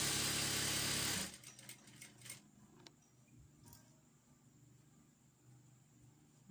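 A sewing machine back stitching a fluffy tutu skirt runs in one loud, steady burst for about a second, then stops abruptly, leaving near silence.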